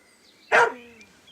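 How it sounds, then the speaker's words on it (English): A dog gives one sharp, close bark, a single short burst against a quiet background. "That damn dog."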